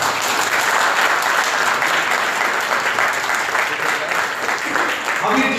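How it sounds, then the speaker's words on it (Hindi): A large audience at a speech event breaks into loud, dense applause, a continuous roar of clapping with some crowd noise mixed in, sustained throughout and fairly close. "जोरदार तालियां इन सबके लिए।"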